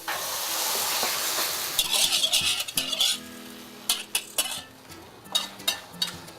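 Beaten egg mixture poured onto vegetables cooking in a hot pan, first a loud broad sizzling hiss, then a string of sharp metal clinks and scrapes of a utensil against the pan, close and without talk.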